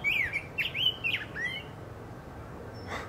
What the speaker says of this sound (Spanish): ¿Ves? Están los pájaros.